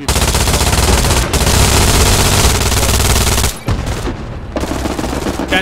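Sustained MG42 machine gun fire in Hell Let Loose from a World War II bunker defense, loud rapid bursts filling the first three and a half seconds, then a short gap and more gunfire continuing at a slightly lower level.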